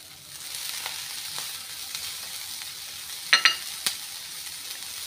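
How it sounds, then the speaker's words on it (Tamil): Grated coconut, about half a shell, fries in a pan as part of a spicy mutton gravy, giving a steady close sizzle with a few brief clinks of a spoon against the pan near the end. "தேங்காவை நல்லா வறுத்து எடுத்துக்கலாம்."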